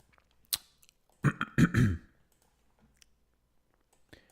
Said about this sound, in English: be clearing my throat a little bit